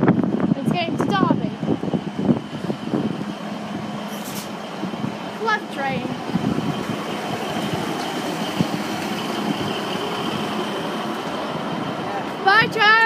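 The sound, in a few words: passing train going to Derby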